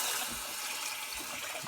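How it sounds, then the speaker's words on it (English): Three cups of water pour into a cooking pot for a seafood boil, a steady, faint splashing trickle that runs without pause for under two seconds. "put the 3 cups of water."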